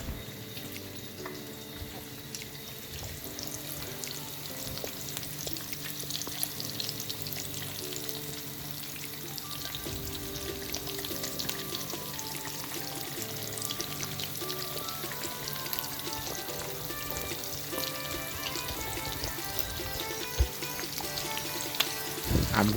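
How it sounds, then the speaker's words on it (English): Pork sizzles and browns steadily in a skillet over medium heat, a continuous close frying crackle with occasional stirring and clinks, no talking. "I'm gonna cover the skillet and allow the pork to brown."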